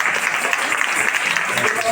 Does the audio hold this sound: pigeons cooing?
no